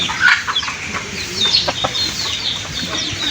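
Chickens cluck nearby in a scattered series of short calls and chirps, with no talking.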